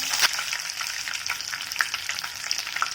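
Curry leaves and mustard seeds hitting three tablespoons of hot oil, a loud, dense crackling sizzle with sharp little pops scattered throughout, close and without talk.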